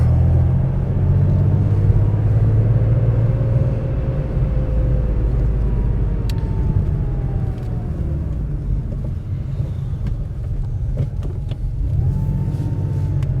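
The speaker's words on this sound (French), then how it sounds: "Cette sonorité du 6 cylindres inimitable, un pur plaisir." Classic Porsche cabriolet, over fifty years old, with its six-cylinder engine droning steadily while driving, a loud, continuous low rumble with slight rises and falls in pitch, heard from inside the car without talk.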